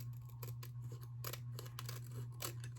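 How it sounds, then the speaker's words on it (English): A pair of scissors snips through stickers in a quick run of faint, close clicks, over a steady low hum in a quiet room. "let's get a pair of scissors, because I need to cut one off anyway"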